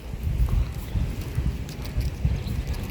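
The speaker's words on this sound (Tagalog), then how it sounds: "Grabe yung hangin sa taas" Strong wind gusts roar steadily around a kite flying high overhead, a loud continuous low rumble of buffeting air against the microphone with no voices.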